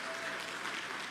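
Steady applause from a Portuguese-speaking audience at a motivational talk, welcoming an assistant onstage as a continuous wash of claps, moderately loud and sustained with no talk over it.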